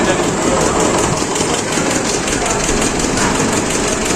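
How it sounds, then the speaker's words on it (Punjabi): A train engine drones steadily nearby during a storm in Punjab, a continuous loud mechanical rumble with faint rhythmic clatter underneath. "ਉਹ ਟ੍ਰੇਨ ਕਿੱਥੇ ਗਈ"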